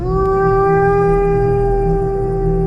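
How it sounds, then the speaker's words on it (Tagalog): Dogs howl in a forest, a long, steady, tonal howl holding at one pitch throughout, loud and close, with a faint low rumble underneath. "pagsimulang pag-alulong ng mga aso sa loob ng gubat"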